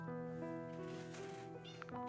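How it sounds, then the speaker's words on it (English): A house cat meows several times in a drawn-out, wavering tone, fairly close but soft, with no talking over it. "Cat, do not lick that plate."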